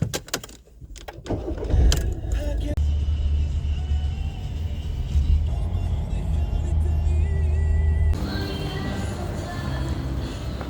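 A car on the island of Menorca on a cold, windy day: a door thuds shut and keys jingle, then the engine starts and settles into a steady low rumble as the car drives off. It stays fairly close and clear, with no talk.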